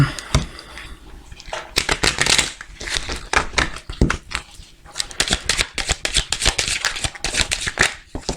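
Playing cards are shuffled close up in repeated riffling bursts, a crisp fluttering rattle that stops and starts in quick rounds.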